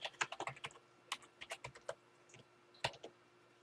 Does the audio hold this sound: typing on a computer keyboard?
yes